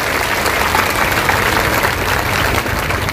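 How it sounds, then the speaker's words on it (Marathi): A crowd at a Malegaon women's and children's hospital inauguration claps loudly and continuously, a thick sustained roar of many hands that holds an even level for several seconds without speech. "कमी टाळ्या जोरात वाजल्या पाहिजे."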